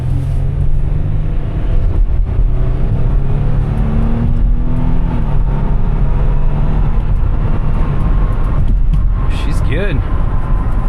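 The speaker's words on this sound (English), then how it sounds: "Alright, let's give her the beans." A 2015 Toyota Sienna van with about 190,000 miles accelerates hard, engine noise rising steadily and loud from inside the cabin, with brief talk near the end.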